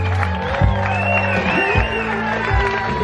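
Guests at a beach wedding cheer and whoop in a steady roar as the couple is introduced, with music playing underneath throughout.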